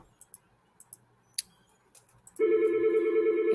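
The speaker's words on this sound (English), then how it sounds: "I'm going to have to pause the video because I'm getting a phone call." A phone gets an incoming call. A few soft clicks and ticks come first, then a loud, steady electronic ring starts abruptly and holds to the end.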